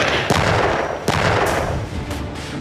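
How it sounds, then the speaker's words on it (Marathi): Artillery cannons firing near the Russia-Ukraine border: a few heavy, sharp booming blasts followed by rolling rumble, loud and dense, with no speech. "तोफांच्या गर्जना"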